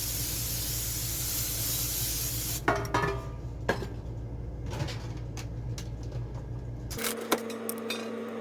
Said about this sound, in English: I'm going to use olive oil spray to spray it